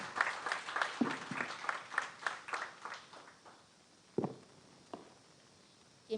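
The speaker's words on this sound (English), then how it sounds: "Give her a round of applause." An audience claps at a junior fair king and queen coronation, starting as a dense burst of applause that thins to a few scattered claps near the end, heard at moderate distance.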